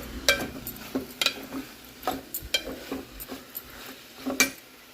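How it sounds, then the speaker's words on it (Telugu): Flat beans fry in oil in a pan with a soft, low sizzle, punctuated by intermittent scrapes and clinks of a utensil stirring against the cookware. "ఈ చిక్కుడుకాయలు కొంచెం నూనెలా ఫ్రై అయినట్టు అవుతాయి."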